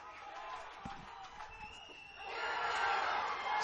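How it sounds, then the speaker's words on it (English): A baseball crowd at an elimination game between Santa Fe and Northwest Florida murmurs and stirs steadily, swelling a little louder toward the end, with distant voices and cheers blended into the broad, continuous noise. "This crowd getting a little more fired up here."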